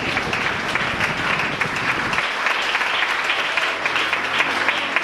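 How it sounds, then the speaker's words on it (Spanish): A church congregation applauds steadily and fairly loudly during a sermon, dense clapping that holds from start to finish without spoken words. "Fuerte ese aplauso para el Señor de la gloria."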